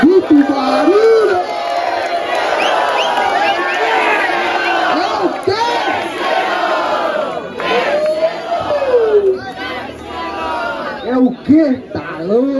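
The audience at a Brazilian street rap battle roars, with loud, continuous shouting and whooping voices rising and falling in a packed crowd.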